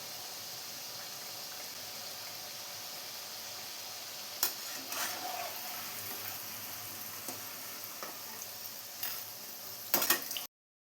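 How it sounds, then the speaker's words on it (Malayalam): Spicy pazhampori, banana fritters, frying in hot oil give a steady, soft sizzle with occasional clinks and scrapes of stirring, with no talking. "ഇതുപോലെ ബാലൻസ് ഉള്ള പഴം കൂടെ ഫ്രൈ ചെയ്തെടുക്കാം."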